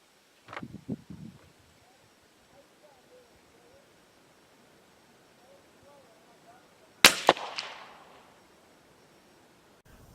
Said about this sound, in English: today I'm going to shoot 3 rounds down here